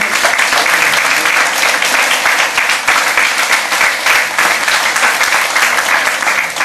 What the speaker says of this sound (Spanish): Y quiero dar las palmas al Señor.